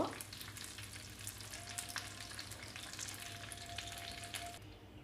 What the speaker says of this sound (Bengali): মাছ ভাজা শেষ, এখন আমি মাছগুলো তেল থেকে তুলে নিব